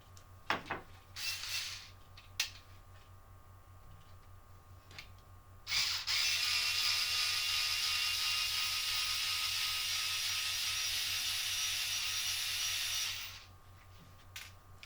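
Screws being taken out of an inner portal housing on a TRX-4 RC truck: a few small clicks and taps, then a steady high whir of a small power driver running for about seven seconds, close and without speech.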